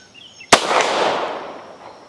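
A single sharp gunshot in a video game, a loud crack followed by a long fading burst-like decay, with a few faint tones before it and no speech.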